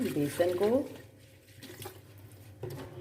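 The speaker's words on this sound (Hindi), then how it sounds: "पानी ऐड कर देते हैं और मिक्स कर लेते हैं" Water running from a tap into a bowl of gram flour batter for pakora, a short splashy pour at the start that tapers off, with a voice speaking over it.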